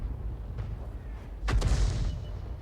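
A single artillery shot in a tank video game, a sharp boom with a rumbling tail heard once over low background noise, with a fainter thump shortly before.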